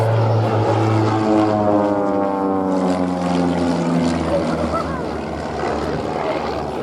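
Pitts S-1D Special aerobatic propeller biplanes of an aerobatic team sweep past at a Duxford airshow in a mirror pass, their steady engine drone with a sliding, Doppler-shifted pitch held loud and close throughout.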